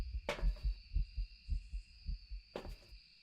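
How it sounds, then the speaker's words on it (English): Ghost heartbeat during a hunt in the horror game Phasmophobia: a steady, deep, muffled thumping pulse repeating about every half second, with a sustained eerie high tone underneath and two brief bright bursts of noise. "I just heard its heartbeat."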